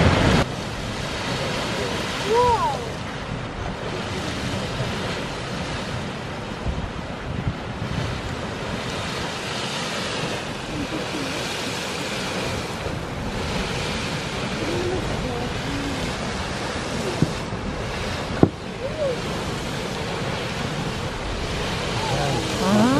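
A geyser erupts in the Valley of Geysers, Russia, with water shooting upward in a continuous loud roaring rush, like heavy surf. Wind buffets the microphone throughout, and a voice talks faintly beneath it.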